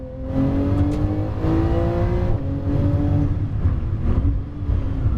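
A sports car engine that revs only to 7,000 rpm revs hard and climbs through gears, a loud sustained roar with rising pitch sweeps and brief dips between shifts.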